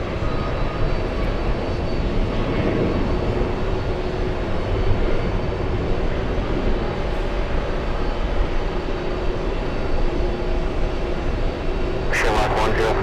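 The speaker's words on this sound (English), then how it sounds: "let that A380 pass." An Airbus A380 taxiing past at JFK airport gives off a continuous broad engine roar that stays steady and fairly near throughout. A voice talks over it.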